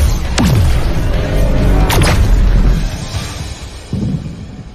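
Weapons fire and explosions in a battle scene, with two sharp loud booms followed by rumbling and a lighter thud near the end, close and without talk.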